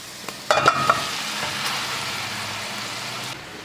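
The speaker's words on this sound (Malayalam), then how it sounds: "ഇത് നമ്മുടെ കപ്പ വേവിച്ച് വെള്ളമൊക്കെ വാർത്ത് വെച്ച് അത് ഇതിലേക്ക് ഇട്ട് കൊടുക്കാം" Boiled, drained tapioca dropped into a hot pan in a Kerala kitchen, setting off a sudden loud burst of sizzling and frying that settles into a steady hiss and continues to the end.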